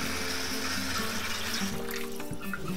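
Water runs steadily into a pot for cooking cachupa, a continuous close splashing rush like a tap filling the vessel, with no one speaking over it.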